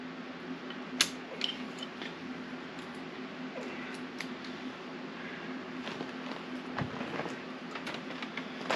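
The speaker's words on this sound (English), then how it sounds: "Zip ties, get them loose." Zip ties are snipped loose from the controls of a Woodmizer LT15 sawmill, giving a few faint clicks and snips over a steady low hum, with small handling ticks scattered throughout.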